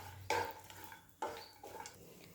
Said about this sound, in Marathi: आता कढईमध्ये थोडंसं तूप घालायचं आहे आणि हे सर्व आता यामध्ये व्यवस्थित गुलाबीसर परतून घ्यायचे आहे